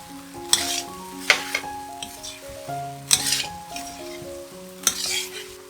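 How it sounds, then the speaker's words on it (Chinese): Vegetarian Fuzhou-style braised ribs being stir-fried in a pan, a steady sizzle with rhythmic scrapes and clinks of a spatula against the metal every second or so, close and without talk, soft music underneath. "炒一炒。"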